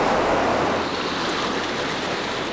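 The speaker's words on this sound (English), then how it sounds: "a large and fast river now flows through the cave" A large, fast river rushes through a cave hundreds of meters underground, swollen by heavy rains. It makes a steady, loud, broadband roar of churning water that stays constant throughout with no voices.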